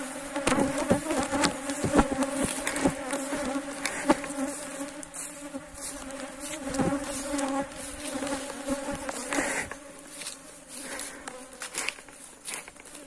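A honeybee swarm buzzes densely and continuously around beehive supers, close up, with individual bees droning past over the steady hum.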